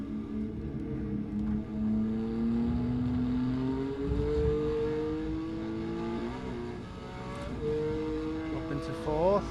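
Porsche 911 RS race car circling the Zolder circuit, its engine droning steadily with a rising pitch as it accelerates, easing off and shifting up through the gears, loud and close with a voice speaking over it.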